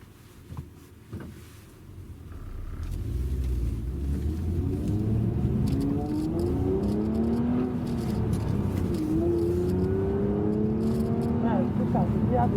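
A Peugeot 406 V6 with a manual gearbox runs and pulls away, its engine note rising in a steady droning sweep, then settling and climbing again, heard close from inside or near the car.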